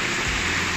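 Heavy rain, the first strong downpour of the year, falls steadily over a farmyard where a broody hen sits on her nest, a dense continuous hiss with no pauses and no voices.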